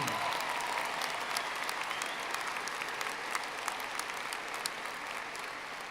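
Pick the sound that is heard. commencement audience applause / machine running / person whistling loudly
commencement audience applause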